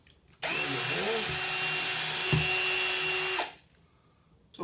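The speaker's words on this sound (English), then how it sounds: "you can go ahead and drill your holes" A power drill whirs loudly and steadily for about three seconds as it bores a hole, then winds down to quiet.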